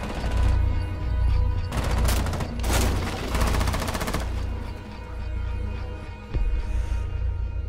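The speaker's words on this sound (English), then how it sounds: "I forgot how fucking fast that gun shoots." Rapid automatic gunfire in Rainbow Six Siege, on the Oregon map in a Team Deathmatch Secure Area match: loud, dense bursts of fast shots that run almost continuously, with brief gaps between volleys.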